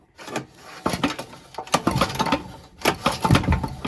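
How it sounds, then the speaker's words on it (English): A big block engine runs with a loose, irregular knocking and slapping from a loose connecting rod on the crank, uneven metallic thuds repeating close by. "the rod is loose on the crank, so it's just sitting there slapping back and forth"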